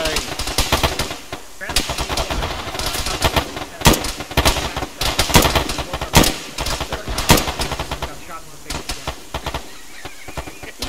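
Rapid bursts of automatic gunfire in a video game, loud and close, with repeated sharp shots in clusters across the clip and occasional other game noises.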